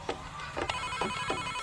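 Ringback tone of a placed phone call, heard as several short, evenly spaced electronic rings close to the handset over a low background hum.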